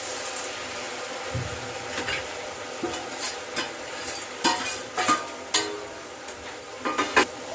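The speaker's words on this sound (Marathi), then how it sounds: "आता आपण ही फोडणी सुद्धा यामध्ये घालून घेतलेली आहे" A steady sizzle of frying as tempering is added to a South Indian poriyal, under repeated scraping and knocking strokes of a spoon stirring in a pan, irregular and close.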